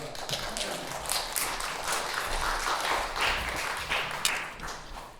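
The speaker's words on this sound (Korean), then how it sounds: "여러분의 그 박수는 하나님 앞에 감사하는 박수인 줄로 믿습니다." A church congregation applauds at a fourth-anniversary Sunday service, a dense sustained clapping crowd heard up close throughout.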